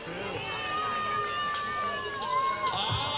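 At a baseball game, a crowd in the stands shouts answers to a trivia question, a jumble of overlapping voices and calls at a moderate distance, rising slightly toward the end.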